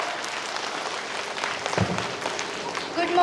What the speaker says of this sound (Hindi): जोरदार तालियों से स्वागत करें इस बच्ची का